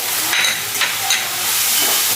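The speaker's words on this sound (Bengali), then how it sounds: "মশলাটা ভালো করে ভেজে নেব যাতে কাঁচা গন্ধ না ওঠে।" Spices frying for a village-style chicken curry, with a steady hiss and sizzle in the pan and a few brief scraping stirs.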